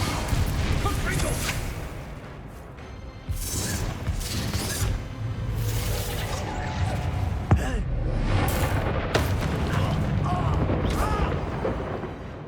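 A Confringo spell blast in Hogwarts Legacy, booming crashes and bursts of magic in a chaotic battle, loud and close, with a sharp impact near the middle and voices shouting spells over the fighting.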